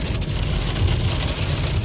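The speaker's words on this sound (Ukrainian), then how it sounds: "Ось так. Отакий ось дощ." Heavy rain pounding on a moving car, a dense steady drumming of drops on the roof and windshield with low road rumble underneath, loud and continuous throughout with no talking.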